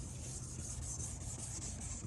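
Steady hissing rub of a polishing pad working an oxidized car headlight with a Rain-X headlight restoration kit, continuous and faint with a gritty texture, no speech.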